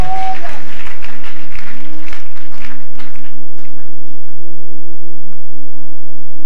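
Church congregation applauding during a lively service, a dense wash of clapping filling the space throughout, loud and sustained with a few louder bursts.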